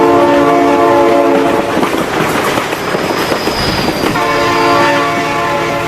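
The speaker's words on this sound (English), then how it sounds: "Oh my god, train!" In a kids' 3D animation, a train horn blares loudly as a train rushes past, with a roaring, rumbling burst of rail noise in the middle before the horn chord sounds again, with no talking.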